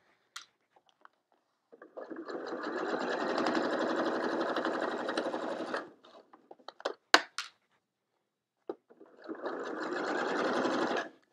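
Sewing machine straight-stitching clear vinyl, two steady buzzing runs of rapid needle strokes separated by a pause filled with small clicks and handling sounds, close and clear.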